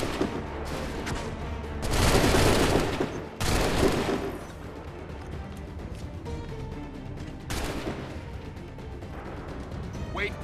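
Musket volleys from a line of soldiers in Assassin's Creed 3, with several loud crackling bursts of massed gunfire roughly every few seconds over a busy battlefield din.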